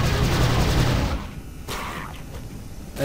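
Gunfire from a weapon in the video game Prey, a dense loud burst of shots in the first second, then quieter scattered impact and whooshing effects with a final sharp hit near the end.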